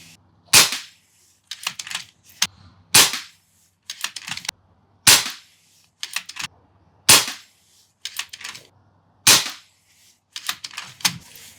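An FX Impact M4 air rifle fires a five-shot group: sharp, close cracks spaced a couple of seconds apart, each followed by the clack of cycling the action between shots.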